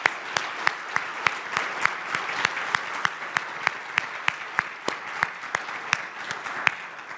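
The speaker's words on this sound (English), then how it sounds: "give a big round of applause to all of our panelists" Audience applause for the panelists at an interfaith forum on sexual morality: a steady, fairly close wash of clapping with sharp individual claps standing out at a regular pace, with no voices.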